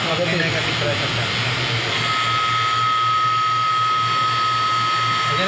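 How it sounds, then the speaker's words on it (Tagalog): A vacuum pump evacuates an air conditioner's refrigeration system during servicing, a steady droning whir with a constant low hum and a faint high whine, running loud and close without pause. "Kapag nagbabacuum, mag-iiba yung tunog."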